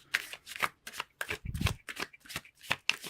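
Tarot cards are shuffled by hand during a reading, giving a quick run of close, crisp riffling bursts in an uneven rhythm and one soft thump partway through.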